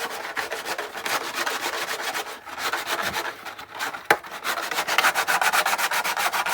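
Rapid, rhythmic rasping strokes sand a part of an Imperial gunner helmet, close and steady with a brief pause midway and a sharp knock before the rubbing resumes.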